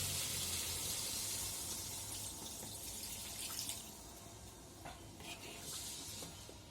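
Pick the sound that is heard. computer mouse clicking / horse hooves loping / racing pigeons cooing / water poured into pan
water poured into pan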